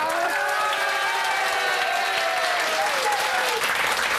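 A large crowd applauds and cheers continuously, a dense wash of clapping with voices rising above it.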